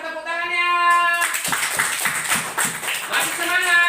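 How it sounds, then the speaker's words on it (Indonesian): A roomful of students clapping for a fourth-place group in a school classroom, a burst of brisk applause that starts after a brief tonal sound and keeps going, with voices faintly mixed in. "mana tepuk tangannya?"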